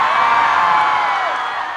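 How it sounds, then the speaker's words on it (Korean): Loud, continuous cheering and high screaming from a section of a big crowd at the Masan fish market festival concert, a dense roar of whoops and shouts that eases off slightly at the end. "자, 우리 이쪽에 계신 분들 함성!"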